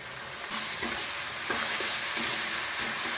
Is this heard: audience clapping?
no